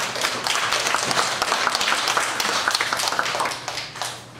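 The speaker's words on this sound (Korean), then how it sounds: "발표하시고 질의하신 분들께 수고하셨다고 박수 한번 드립니다." An audience at a sijo poetry academic conference and recital applauds the presenters and questioners, producing dense, steady clapping that holds for several seconds before thinning slightly at the end.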